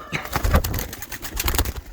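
Pigeons, among them crested white birds freshly let out of their boxes, coo in a low, throaty rhythm close by, several soft repeated calls over two seconds.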